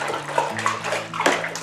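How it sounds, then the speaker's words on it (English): Water stirred vigorously by hand to churn up settled sediment, a continuous sloshing and swirling with bright splashy bursts, close and steady throughout. "So we need to give it a really good stir."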